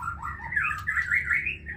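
Oriental magpie-robin (murai batu) calling, a close, clear run of warbled, squawky notes lasting under two seconds over a low background hum.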